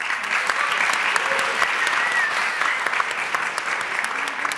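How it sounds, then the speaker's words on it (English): An audience at a film festival talk in Berlin gives the host warm, continuous applause, a dense even roar of many hands clapping throughout, with a little faint voice underneath. "So warm applause."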